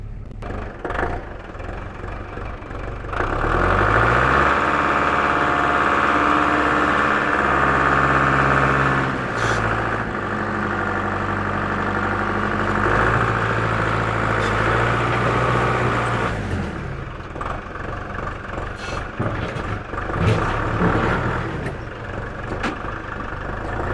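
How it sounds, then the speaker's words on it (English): A tractor engine pushing rocks roars up into a loud, steady diesel drone with a strong low rumble, holds under load for several seconds, then eases back to a quieter idle with scattered clanks. "take the tractor and kind of push it a little bit"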